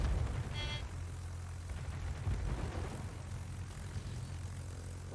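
Warplanes drone overhead in the World of Warships naval video game, a steady propeller engine rumble over constant background noise, with a brief higher whine early on.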